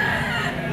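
A stag rooster, one offered for sale at a market in Lipa, Batangas, lets out a short, loud crow, close and clear and heard on its own.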